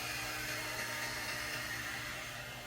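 A Hodekt 2-in-1 hot air blower brush drying hair gives a steady, close, unbroken whooshing roar of blowing air with no talk over it.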